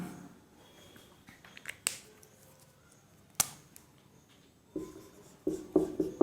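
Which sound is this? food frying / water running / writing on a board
writing on a board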